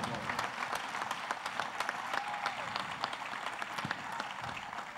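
Audience applauding at a tribute show honoring Carole Demesmin, Jean-Claude Martineau and Giordany Joseph, a steady dense clapping that fills the hall for several seconds, with a faint voice briefly surfacing over it.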